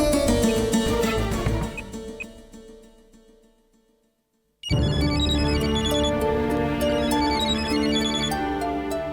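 Telephone ringtone playing a loud melodic electronic tune that fades out, falls silent briefly, then starts again at full volume and keeps ringing, with no talking.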